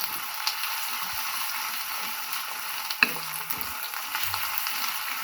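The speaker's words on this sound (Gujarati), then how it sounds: "ડુંગળીને આપણે સારી રીતે તેલમાં ફ્રાય થવા દઈશું." Onions frying in oil in a pan: a continuous close hiss of sizzling with small crackles and an occasional clink from stirring, fairly even throughout with no voices.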